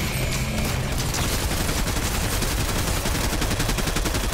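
Rapid gunfire in the video game Fortnite, dense repeated shots in a fast continuous burst, loud and close throughout with no speech over it.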